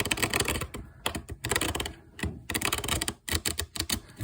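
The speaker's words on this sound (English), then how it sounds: "Okay, so I can overhand shuffle them with no problem whatsoever." A deck of Marseille tarot cards is overhand shuffled close up, giving quick bursts of papery slaps and riffling clicks in irregular clusters, separated by short pauses.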